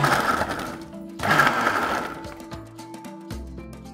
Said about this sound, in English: Now I'm gonna mix half of this up in the blender